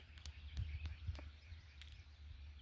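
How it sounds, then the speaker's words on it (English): Songbirds in the woods at dawn, faint brief chirps and calls scattered over a low ambient rumble, a few short sharp notes standing out at a distance. "All kinds of songbirds."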